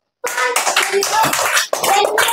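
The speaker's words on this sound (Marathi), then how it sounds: "टाळ्या वाजवायचं." A short round of hand clapping in a classroom, a brisk patter of claps lasting a couple of seconds, close and fairly loud, with voices mixed in.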